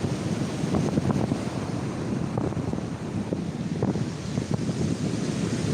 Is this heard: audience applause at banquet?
no